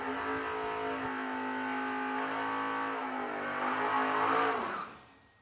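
A drag racing Camaro revs hard at the burnout box, a loud sustained engine roar that climbs briefly before cutting off abruptly, with no talking.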